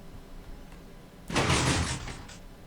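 In a Minecraft game, a fast 5x5 seamless cave door with slime blocks and pistons snaps open, a short burst of mechanical piston and sliding sounds lasting about a second after a quiet pause, fairly close, with no talk.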